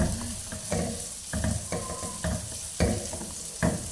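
A spoon stirs masala in a pot of mutton nihari cooking in ghee, repeated scraping strokes in an uneven rhythm over a soft continuous sizzle, close and clear.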